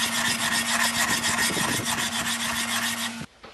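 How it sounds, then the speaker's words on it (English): Steel pressure plate from a Vance Matcher lapped back and forth on sandpaper, a steady close rasping scrub with rhythmic strokes and a faint low hum underneath, stopping abruptly at the end. "I've been lapping this now."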